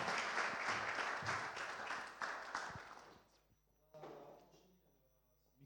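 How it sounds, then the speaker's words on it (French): A crowd applauds for about three seconds, then the clapping fades out, leaving a few thumps and quiet room noise. "On peut l'applaudir."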